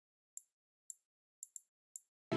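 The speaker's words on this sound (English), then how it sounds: "I added a muted triangle," A muted triangle struck five times in a loose rhythm, each hit a short, bright, dampened ping with no ring, alone against silence before a sudden burst of music at the end.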